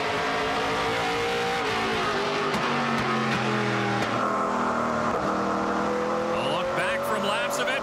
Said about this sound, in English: Here's a side by side battle, Lapcevic and Chisholm.